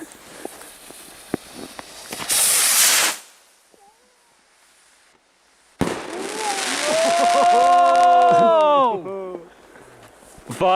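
Large New Year's shell rocket fireworks: a few sharp pops, then a loud whooshing launch, a quiet pause, and a long burst of crackling and whistling effects that fades out before another bang at the end.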